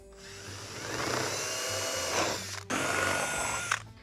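Power drill boring holes with a 1/2-inch bit during a Jeep Wrangler JL tailgate table install, a steady loud whine with a brief stop near the end before it resumes, close and alone.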